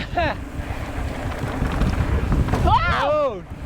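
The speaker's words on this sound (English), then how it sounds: "The wind took me again" Strong wind buffets the microphone on a fast mountain trail in Utah, a loud steady rumble throughout, while a voice calls out in sliding exclamations at the start and again near the end.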